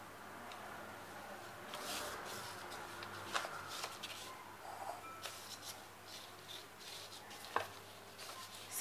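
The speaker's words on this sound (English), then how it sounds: "now with our rolling pin we are rolling it" A rolling pin flattens potato paratha dough on a floured surface, giving a soft continuous rubbing and rolling hiss with a few light knocks, close and quiet, without talking.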